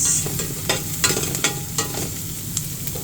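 Onions and garlic frying in a hot pan, a close sizzle broken by repeated bursts of crackling as the spatula stirs and scrapes in an uneven rhythm.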